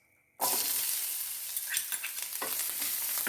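Grated coconut and shallots roast in hot coconut oil, bursting into a loud sizzle after a moment of quiet, then crackling steadily with a few spoon scrapes.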